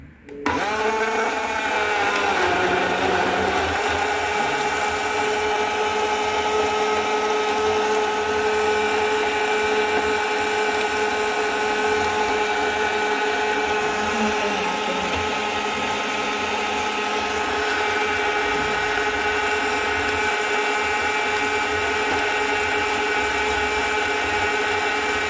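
A rechargeable portable blender whirs continuously at close range while blending watermelon into juice, a steady motor hum with chunks churning at the start and no speech.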